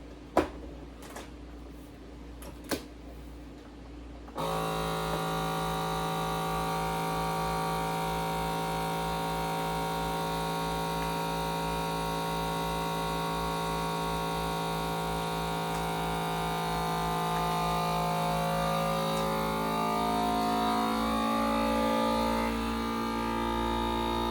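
Vacuum sealer pumping air out of a freezer bag of corn: a few handling clicks, then a loud, steady motor drone that runs alone for about twenty seconds, its pitch gradually shifting as the bag tightens.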